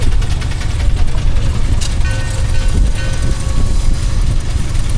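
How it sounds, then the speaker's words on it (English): A Fowler steam road engine rolls past at a miniature steam engine parade at Parham Park, giving a loud, continuous low rumble and chuff with mechanical clatter, close by and steady throughout. "There's that Fowler Road engine again"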